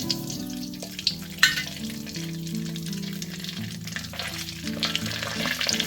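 Mustard seeds and asafoetida hit hot oil for tamarind thokku, a close crackling sizzle with sharp pops and clicks, busy and steady throughout, no talk.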